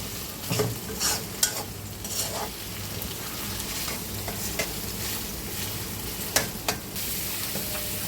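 Garlic and food marinated with green chili, egg, black pepper and salt fry in a pan while being stirred, giving a steady sizzle broken by repeated scraping stirs and occasional clinks, close and moderately loud.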